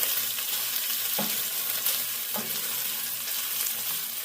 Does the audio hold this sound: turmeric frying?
yes